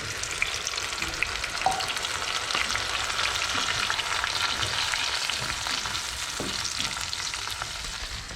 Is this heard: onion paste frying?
yes